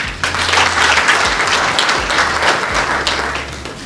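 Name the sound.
applause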